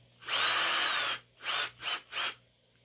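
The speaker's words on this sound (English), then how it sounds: "Scary drill, scary drill." A handheld electric power drill whirs in one long burst followed by three short revs, loud and close, with a quiet steady hum between them.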